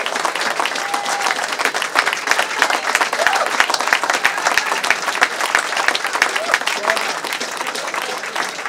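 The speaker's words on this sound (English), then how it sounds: "Big round of applause then for Edwin Kipyego" An outdoor crowd at a half marathon awards ceremony applauds the course-record winner, sustained even clapping with some distinct nearby claps over a faint murmur of voices.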